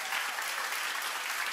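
Concert audience applauding: a dense, steady wash of many hands clapping, loud and sustained without break throughout.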